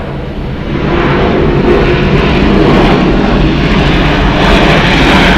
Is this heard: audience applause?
no